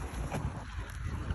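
Geese honk at Oulton Broad in Suffolk while being fed bread, with a brief, loud, noisy burst of calls close by over rough water and wind noise.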